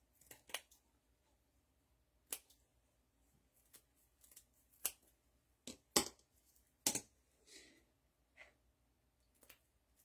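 Scissors cutting material that frays, a series of sharp separate snips spaced irregularly, close and fairly quiet with silence between.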